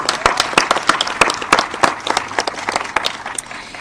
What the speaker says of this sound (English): yes, let's applaud